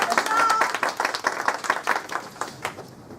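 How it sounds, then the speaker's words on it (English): Clapping from a small gathering at a community awards event, scattered individual claps at close range that thin out toward the end, mixed with voices talking over them. "So we can clap for her"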